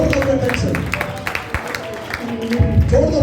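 A church congregation claps hands during worship at a Pentecostal service, rhythmic group clapping mixed with crowd noise and a preacher's voice talking over it, loud and close.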